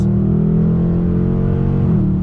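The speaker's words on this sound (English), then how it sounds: "So here we go, on throttle, fast shifts" A 2020 Dodge Challenger R/T muscle car engine roars steadily under hard acceleration, its deep droning note holding strong with a brief dip near the end as a fast gear change happens.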